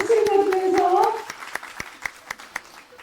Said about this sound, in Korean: 이상희 씨 박수를 받으면서